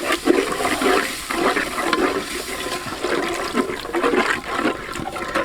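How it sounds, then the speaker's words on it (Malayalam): Coconut milk, a full litre, pours steadily into a pan while making chicken halwa, a continuous liquid rush and splash that stays fairly loud throughout with no talking. "1 ലിറ്റർ തേങ്ങാപ്പാൽ ഒഴിച്ചു കൊടുക്കണം."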